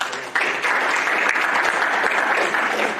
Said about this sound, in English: I'll give him another round of applause.